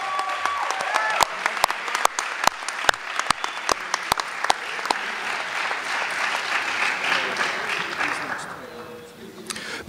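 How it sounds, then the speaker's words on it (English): Audience applause at the 2016 Penn State Altoona athletics recognition ceremony for an award winner, a steady round of clapping with a few sharp louder claps, sustained for most of the span and tapering off near the end. "Please join us in giving a round of applause"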